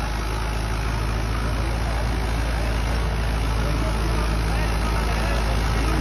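A Mahindra 585 DI XPlus tractor runs with a 7-foot rotavator attached, its diesel engine holding a loud, steady, low-pitched drone with a constant rumble and no pauses throughout.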